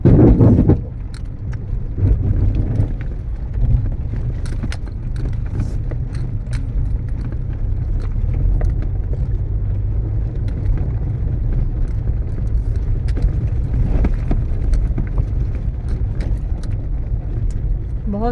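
A car creeps slowly over a badly damaged mountain road toward Badrinath, giving a steady close engine-and-tyre rumble with loose items jangling and rattling throughout, and no talk over it.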